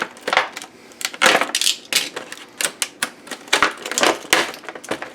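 Plastic clamshell packaging around a vintage TeleZapper robocall-blocking device is pried and torn open, giving close, sharp crackles and snaps in irregular bursts with no talking.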